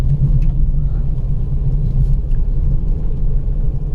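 A car drives at night through Pilibhit Tiger Reserve, with a steady low engine rumble and road noise from inside the vehicle and a constant, fairly loud drone throughout.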